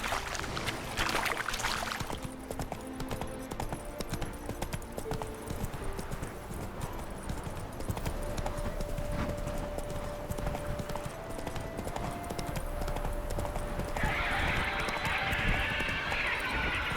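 Rhythmic hoofbeats of Roach, a horse in The Witcher 3: Hearts of Stone, clip-clop steadily and close throughout, with game music and ambience underneath.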